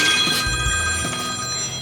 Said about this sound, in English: Oh, it's the hotline. It's the bat phone, Robin.